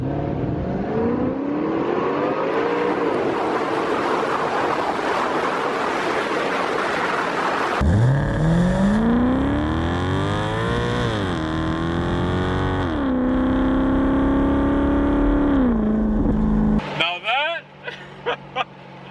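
A powerful Maserati GT engine roars and revs in manual mode, rising in pitch as it accelerates through several gear shifts, loud and close, ending in abrupt crackling bursts.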